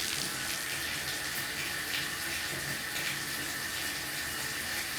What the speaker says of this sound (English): How long is that water going to come out?